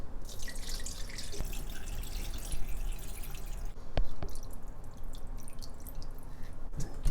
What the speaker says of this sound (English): cold water. Add enough to cover the chicken.